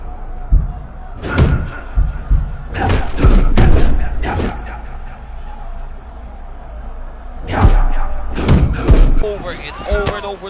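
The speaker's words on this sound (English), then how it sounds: "Over and over with leg kicks" Leg kicks landing in a UFC fighting game: clusters of heavy, punchy thuds in two bursts with a crowd murmur beneath and a commentator talking over them.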